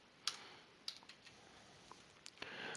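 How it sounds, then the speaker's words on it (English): A few soft, sparse keystrokes tap on a computer keyboard, quiet and spaced out with near silence between them. "I'm gonna just type it."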